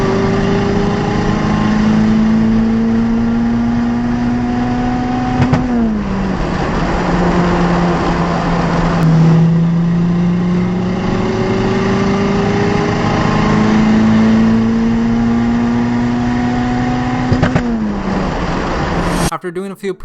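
A turbocharged Honda Civic engine hums steadily while driving, its pitch rising through gears and dropping at shifts, continuous and fairly loud.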